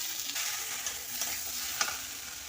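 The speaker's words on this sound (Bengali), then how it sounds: "পোস্ত আর সর্ষে একসঙ্গে পাঁচ মিশালি মশলা আমি ওর সঙ্গে দিয়ে দিলাম আমার ভেজে রাখা সয়াবিনগুলোও দিয়ে দিলাম" Fried soybeans tossed into a pan of spice paste with cumin, coriander, poppy seed, mustard and five-spice, giving a close, steady sizzle with light stirring scrapes.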